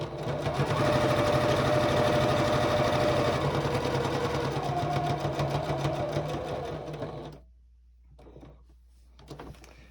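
A sewing machine stitches binding onto a gingerbread star table topper in a fast, steady mechanical whir for about seven seconds, close and loud, then stops, followed by a couple of brief, quieter bursts of stitching.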